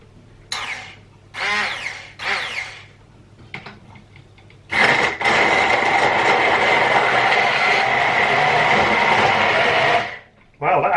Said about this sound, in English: And now I blend.